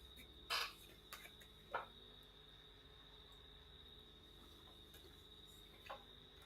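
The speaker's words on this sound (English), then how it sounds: "I like the sound of those crickets." Crickets chirp at night outdoors in a steady, faint high-pitched trill, with a few sharp clicks and knocks nearby.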